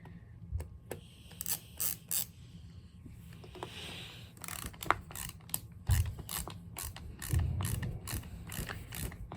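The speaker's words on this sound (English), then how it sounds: "No, this is a ratcheting screwdriver." A ratcheting screwdriver takes screws out of an old hair dryer, making close, rapid clicking ratchet bursts with short pauses and some faint handling noise.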